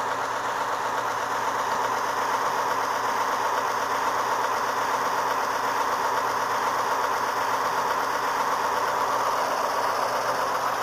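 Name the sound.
model diesel locomotive engine sound, Atlas BN with Tsunami decoder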